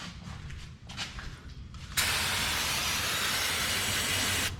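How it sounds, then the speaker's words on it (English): Cleaner is sprayed under a Pontiac Grand Prix to remove old oil during an oil change: a steady, loud hiss of spray starts abruptly and continues for a couple of seconds, after a few short spurts and some clanking. "go ahead and spray everything down. Get all that old oil off."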